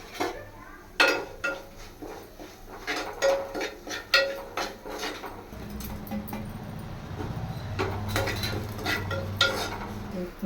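Fenugreek seeds, coriander seeds and cumin are dry-roasted and stirred in a pan for drumstick-leaf powder, with rapid scraping and rattling strokes up close, then a softer steady sizzle and rustle as the stirring slows.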